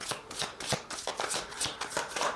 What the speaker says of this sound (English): So I'll just lay out some cards here.